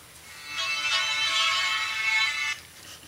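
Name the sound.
phone ringtone, somewhat classical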